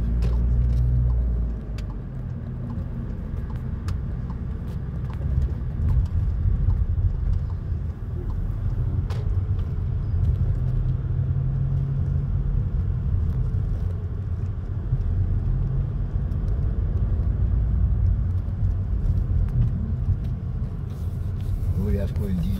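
A car drives along with a steady low engine and road rumble throughout, close and loud, while people inside occasionally talk.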